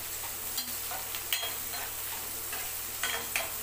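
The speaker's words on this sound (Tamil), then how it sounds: "ஃப்ரெஷ்ஷான கருவேப்பிலை இப்போது நல்லா பொரியட்டும்." Fresh curry leaves fry in hot oil with a steady soft sizzle and crackle, broken by a few sharp pops and spits, close by with no talking.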